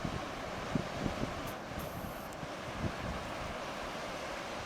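Ocean surf washes onto a beach at very high tide on a foggy day at Jekyll Island or Amelia Island, a steady broad roar of waves mixed with wind noise and no voices.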